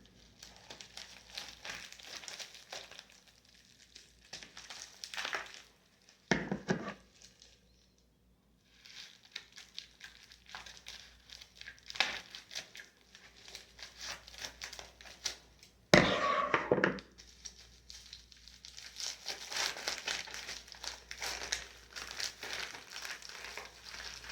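A bubble envelope is handled, crinkled and opened at close range, with bursts of crackling plastic rustle spread through the clip and a louder crumple near the middle.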